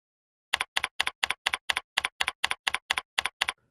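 Keys clack crisply in a fast, even run of about fifteen separate strokes on a computer keyboard as a Wi-Fi IP address is typed into a hostname field, close and clear with silence around them.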